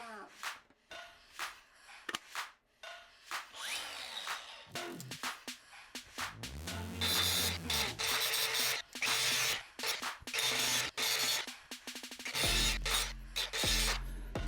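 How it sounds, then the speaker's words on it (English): A grinder works the metal of a 1979 Honda CBX kickstand in short, choppy bursts, with the motor whining up and down between harsh, loud grinding passes close by. "what I'm gonna try and do is grind this down just a little bit"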